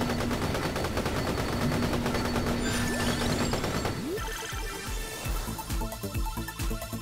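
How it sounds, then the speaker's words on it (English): Rapid bursts of gunfire and explosive blasts in Vampire Survivors, dense and loud at first, then sparser crackling booms with tonal effects overhead. "Yes, yes, yes. Explosions."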